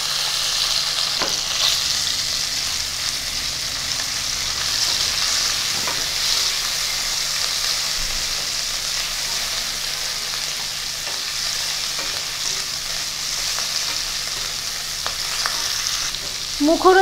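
Boiled potato pieces fry with bay leaves in hot oil for Kolkata street-food chotpoti, a constant loud sizzle with occasional light stirring clinks near the end, no voices.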